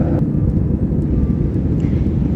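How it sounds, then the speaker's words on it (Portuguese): Jet airliner taking off from Rome, a loud steady roar of engines and rumbling cabin noise filling the whole stretch without pause. "Essa foi a decolagem lá de Roma, se não me engano."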